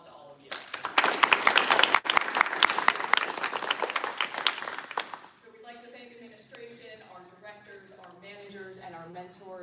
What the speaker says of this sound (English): So round of applause to all of you.